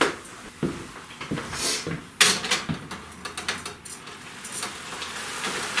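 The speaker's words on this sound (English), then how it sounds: "Now we're going to drain some of this liquid real quick." Liquid drains from cooking venison in a pan, giving an uneven run of close splashing and trickling, with clattering pan and utensil knocks scattered through it.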